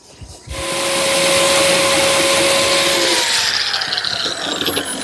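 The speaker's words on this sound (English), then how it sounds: "To reinforce the miter joints, I'm cutting slots for these number 0 biscuits." A biscuit joiner whines up and cuts slots in walnut miter joints, a loud, close, sustained high-pitched spinning roar with a faint rising tone that tapers as the blade withdraws.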